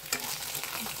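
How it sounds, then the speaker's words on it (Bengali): Eggs frying in oil with turmeric on a hot tawa, giving a steady close sizzle with a few brief stirring scrapes, heard alone for a moment. "এখন এখানে আমি ডিম ভেজে নেব"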